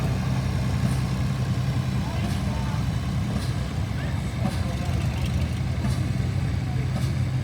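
A Farmall H tractor rolls past in an equipment parade at the Tuckahoe Steam and Gas Association show, its engine making a low, steady rumble with faint intermittent clicks and voices in the background.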